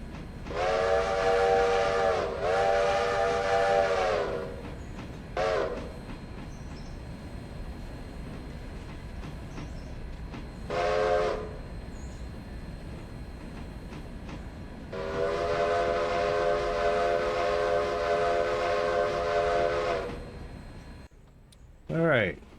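A train whistle sounds near Whittier: two long, loud blasts and two short ones, then a final extended blast, all over a continuous rolling rumble.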